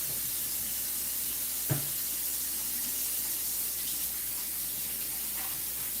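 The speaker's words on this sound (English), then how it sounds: "I'm going to wash my hands and we're just going to start." A tap runs while hands are washed, giving a steady hiss of flowing water with one brief knock partway through and no talking.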